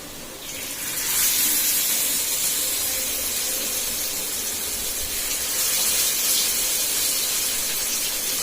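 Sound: fish frying in a pan

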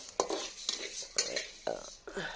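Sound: garlic and cumin seeds being roasted in a pan

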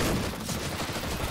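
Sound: Mag 7 shotgun firing in video game CS-GO

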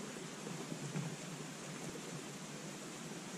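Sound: rain falling, with thunder

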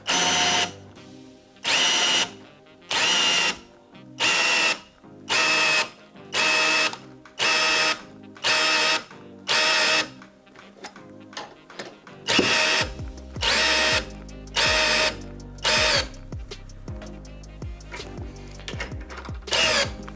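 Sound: cordless drill-driver drilling, going into overload protection

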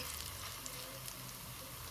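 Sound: pakoras frying in oil

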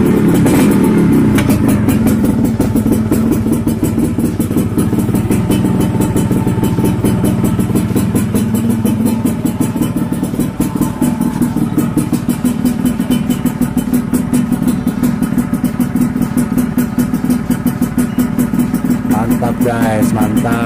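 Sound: Yamaha RXZ 1997 two-stroke motorcycle engine running

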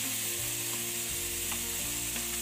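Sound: vegetables and tomato cooking in a pot

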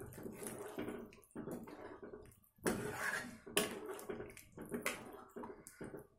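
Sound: stirring kofta curry gravy in a pan

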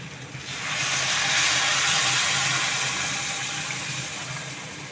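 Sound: pouring pre-heated hot water into curry

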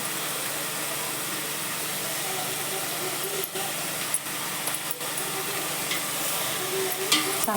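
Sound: spices frying and being stirred in oil

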